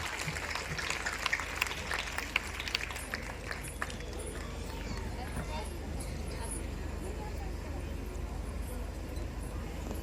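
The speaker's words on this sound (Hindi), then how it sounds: "जोरदार तालियों से स्वागत कीजिए हमारे प्रतिभावान बच्चों का।" A crowd applauds to welcome talented children at a local event in Varanasi, a faint, busy patter of clapping heard over a constant background hum and chatter, strongest early and thinning out later.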